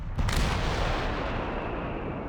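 Heavy automatic weapon fire from Company of Heroes 3, a loud booming burst at the start that rolls into a sustained rumbling tail, with no voices.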